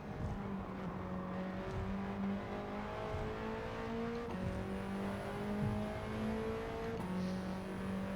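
An Alpine A110 race car engine in Gran Turismo 7 on the Tokyo Expressway holds a steady, loud drone throughout, with pitch rising through the gears and a brief shift, no talking over it.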